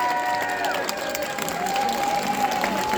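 A convention crowd welcomes a guest onto a talk stage with steady applause and some cheering, while tonal music or whistles run underneath throughout.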